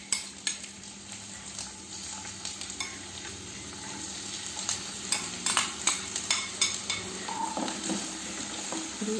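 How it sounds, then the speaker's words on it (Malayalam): Shallots frying in hot coconut oil during a Lakshadweep-style dry tuna roast, a steady close sizzle with scraping stirs and soft utensil clicks running through, growing busier toward the end, no voices. "എണ്ണ ചൂടായിട്ടുണ്ട്. അതിലേക്ക് ചുവന്നുള്ളി ഇട്ട് കൊടുക്കുക."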